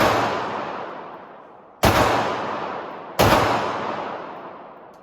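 Walther P99 pistol fired at an outdoor shooting range: three sharp, loud gunshots spaced over a few seconds, each followed by a long decaying echo.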